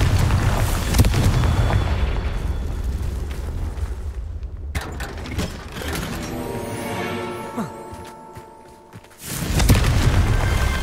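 Confringo fire spell explosions in the video game Hogwarts Legacy: loud, booming blasts with a long rumbling body, a sharp burst near the middle, a quieter dip, then another heavy blast at the end.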